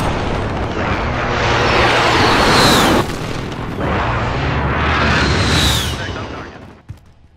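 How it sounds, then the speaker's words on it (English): Heavy explosions from a precision airstrike in a modern military shooter game boom and roll in two long, loud waves, each dying off before a final short thud. "Precision airstrike ready."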